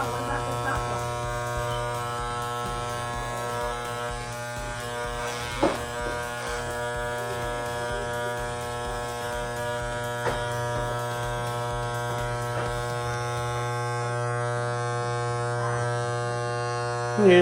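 Electric hair clippers run with a steady close buzz and strong mains-like hum while cutting a man's hair at home. The tone stays constant, with a few brief clicks and knocks, and no one speaks over it.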